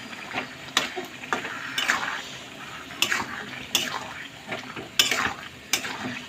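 A spoon stirs spice paste with a little boiled water in a cooking pot for a boneless chicken curry, giving repeated close scraping clinks and wet mixing sounds in an irregular rhythm, with no talk.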